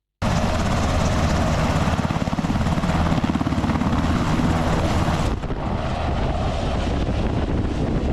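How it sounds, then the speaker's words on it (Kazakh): A military helicopter flies with a loud, continuous rotor and engine drone, steady and close, shifting in tone partway through. "Бұл әскери тікұшақ."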